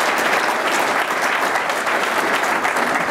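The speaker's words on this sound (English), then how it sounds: "I just hope you'll join me in a round of applause for all of the great work that they're putting in" Audience applause during a speech by the Cook County Assessor, a full, even roar of many hands clapping, loud and sustained from start to end without talk over it.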